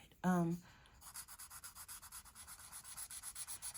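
A chisel-tip marker in barium yellow drags across paper in a quick run of soft, rhythmic rubbing strokes, close and fairly quiet, after a brief voiced sound at the start.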